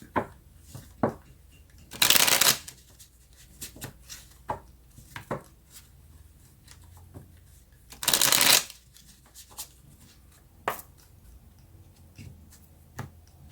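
Tarot cards are shuffled up close in two loud riffling bursts. Between them come scattered soft taps and card handling, and no one speaks.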